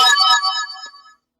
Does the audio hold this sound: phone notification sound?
yes